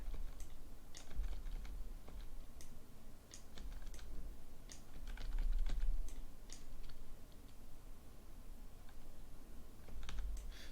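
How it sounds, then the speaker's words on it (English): Computer keyboard typing while working in Photoshop, the bracket keys pressed to resize a brush: sharp, irregular clicks in quick bursts over a quiet room hum, close to the microphone and fairly soft. "I'm just using the bracket keys to enlarge it and shrink it."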